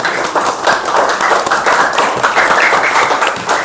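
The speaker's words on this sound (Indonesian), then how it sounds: "Sekarang beri tepuk tangan untuk kita semuanya." A classroom of pupils claps together during an in-service teacher training lesson, steady overlapping hand claps filling the room at close range, loud and continuous throughout.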